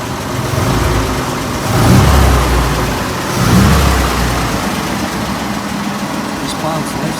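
Engine of a 1926 Oakland car idling roughly and revved gently twice, a low rumbling swell rising and falling, close by, with people talking over it.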